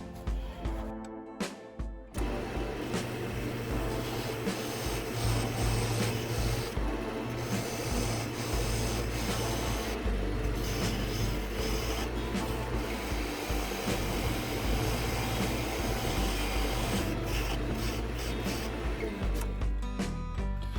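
A wood lathe turns while a tool cuts a taper into the recess of a segmented bowl made from recycled furniture. A loud, continuous rasping drone with steady scraping texture runs for about twenty seconds.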